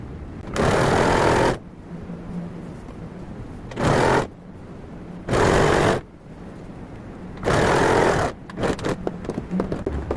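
Sewing machine stitching a square cushion, running in four loud close bursts of rapid stitching separated by quiet pauses, with light handling noises at the end.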